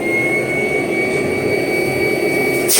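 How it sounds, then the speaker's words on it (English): Rainbow E2 Platinum vacuum cleaner motor running during a suction test with a PN12 airflow box, producing a loud, steady, high-pitched whine and rushing roar throughout, close up with no talking. "Let's see what kind of suction we can get."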